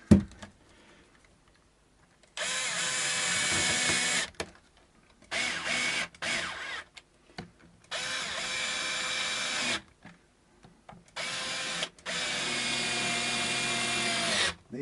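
A powered screwdriver bit drives screws into a Vintage V6 guitar body in several loud whirring bursts of a few seconds each, separated by short near-silent pauses.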